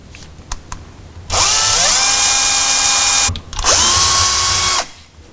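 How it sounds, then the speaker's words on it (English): A power drill with a brad point bit drills through wood for a rocking chair, whining loudly in two sustained bursts, pitch rising as it spins up, with a brief pause between runs. "I'll just use a brad point drill bit to drill a hole through and through."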